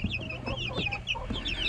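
Chickens cluck and chirp in a cage, with several birds calling in quick overlapping bursts close by.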